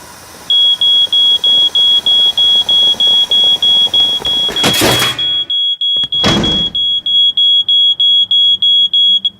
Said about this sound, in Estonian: Sa hakkad suitsu peale piiksuma.